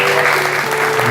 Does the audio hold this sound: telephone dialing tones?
no